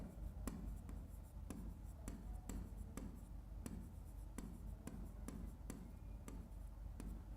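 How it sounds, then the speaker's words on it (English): A marker squeaks and taps against a board in a steady run of short strokes, with sharp little clicks at regular intervals over a low background hum and no talking. "I will write it here,"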